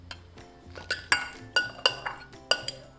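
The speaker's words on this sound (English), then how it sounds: "Gonna give it a little stir." A metal utensil stirs and knocks against a pot holding lemongrass and blanched chicken for Lao chicken noodle soup, giving a series of sharp clinks and scrapes at an irregular rhythm, close and quiet.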